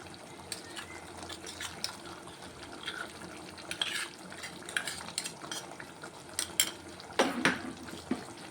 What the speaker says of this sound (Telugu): నేను ఇదంతా వేసుకొని ఒకసారి కలిపేసుకున్నాం